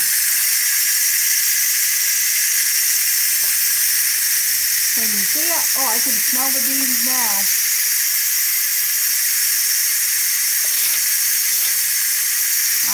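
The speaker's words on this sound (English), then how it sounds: "it's a pretty powerful steam there. And that steam has to be released before you can open the cover." Steam hisses loudly and steadily from the vent of a pressure cooker cooking beans, a continuous close rush of noise with a person talking briefly over it.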